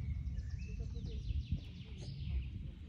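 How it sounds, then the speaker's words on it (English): Sparrow chirping in a forest near a waterfall: faint, brief chirps and tweets scattered over a loud low rumble of rushing water. "I think it is the sound of a German sparrow"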